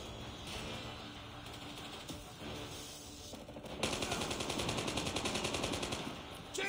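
Gunfire and weapon mechanics in the mobile shooter Call of Duty Mobile, with scattered clicks and shots followed by a sustained rapid burst of automatic fire, loud and steady.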